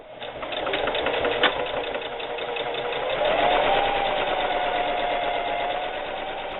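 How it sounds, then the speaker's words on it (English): A sewing machine runs steadily at close range, stitching a seam in fabric for a holiday gift bag in one continuous whirring burst with no talking. "and just sew that seam"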